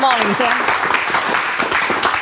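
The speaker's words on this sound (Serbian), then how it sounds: "Aplauz." A studio audience in a talk show claps in dense, lively applause, loud and close, while a voice speaks briefly over the start.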